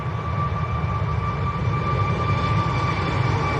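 A Ryanair jet braking after touchdown at Manchester Airport sends out a loud, continuous engine rumble with a deep low roar and faint high whine, steady and close, with no talking.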